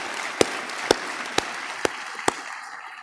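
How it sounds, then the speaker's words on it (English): A few sharp, evenly spaced claps, about five in three seconds, ring out at a South African 30 Years of Democracy ceremony, thin and steady against a quiet hall, with no talk. "please join me in really applauding the great work that has been done"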